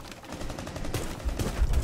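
Rapid gunfire in Rainbow Six Siege, a 2v2 match, with bursts of shots cracking through the whole stretch and heavier, louder volleys near the end.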